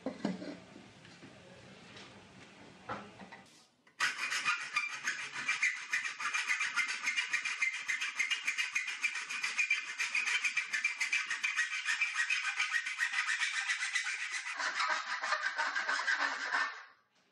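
Two pieces of steel trunking are cut together at a 45-degree angle with rapid, rhythmic rasping strokes. The sawing runs steadily and fairly loud for about thirteen seconds after a quieter opening.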